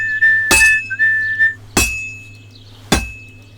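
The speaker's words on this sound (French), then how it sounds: "s'il suffisait de taper sur une enclume avec un marteau" Three heavy, ringing metallic strikes of a hammer on an anvil, evenly spaced about a second apart, from blacksmithing in Kingdom Come Deliverance 2, with a whistle-like tone audible between the first blows.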